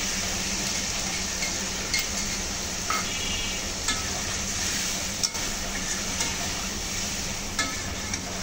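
Chicken fries with spice paste in a pan, producing a dense, continuous close sizzle with a spoon knocking or scraping the pan at fairly regular intervals.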